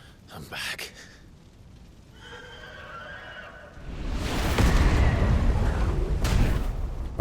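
In the Final Fantasy XVI video game, the Phoenix lets out a cry that sounds like a horse's neigh, followed by a loud, booming rumble that swells and holds, with talk running over it.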